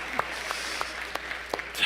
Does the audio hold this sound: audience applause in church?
yes